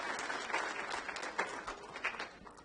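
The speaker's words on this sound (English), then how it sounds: "Let's give them another clap." An audience at an honorary doctorate award ceremony applauds, a steady wash of many clapping hands heard from a distance, fairly faint and continuous.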